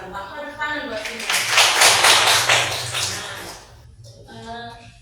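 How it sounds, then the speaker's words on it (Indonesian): Students clap together in a classroom during a school dance lesson, a dense burst of hand claps that swells and then fades out over a few seconds, with voices talking around it. "Tepuk tangan buat ini."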